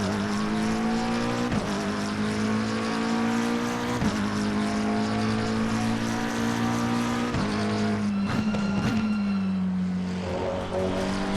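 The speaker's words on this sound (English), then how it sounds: "the backfires, the overruns and stuff like that" A McLaren 720S GT3 race car in Assetto Corsa Competizione drones loudly at steady revs, with rapid crackling backfire pops near the end as the engine note drops on overrun.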